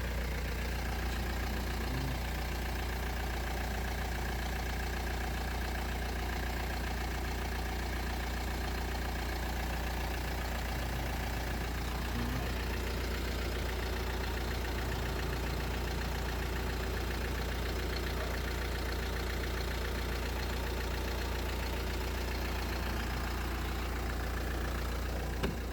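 A Hyundai Santa Fe engine idles after an oil change, a steady, low, even hum with a faint mechanical tick running unbroken for the whole stretch, heard close and without talk.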